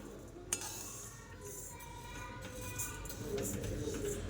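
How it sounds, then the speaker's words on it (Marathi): Rice dry-roasting in a pan over a low gas flame, with a steady soft rustle and occasional faint clinks and scrapes of stirring, fairly quiet throughout. "आता भाजून घेते आधी तांदूळ भाजून घेते"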